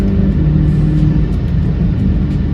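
Steady, loud engine drone from a 2020 Volkswagen Golf GTI pulling hard at speed in high gear, a continuous rumbling hum with slight pitch movement and no talking.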